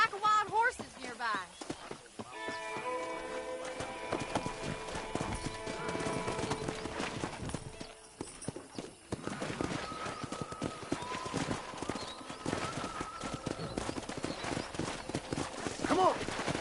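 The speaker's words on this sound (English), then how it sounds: "there's a pack of wild horses nearby" Hooves clatter in a fast gallop, several wild horses running together with a whinny in Red Dead Redemption on PS5, under a swelling musical score and occasional voices.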